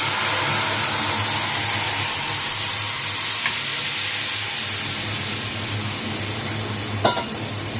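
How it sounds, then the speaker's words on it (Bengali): Mustard paste with salt, turmeric and green chilli poured into hot oil for a drumstick curry, a loud broad sizzle that holds steady throughout, with a light clink near the end. "নুন, হলুদ, সর্ষে, কাঁচা লঙ্কা দিয়ে সেই মশলাটা মা ঢেলে দিচ্ছে"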